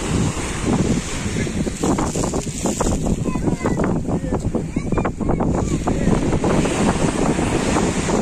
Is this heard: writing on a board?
no